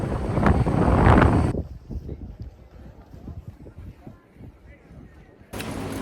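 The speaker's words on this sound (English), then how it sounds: "You can probably hear the wind as well." Gusty wind in winter Tromsø buffets the microphone in loud bursts at the start and end, with a quieter stretch of rough rumbling and faint thumps between.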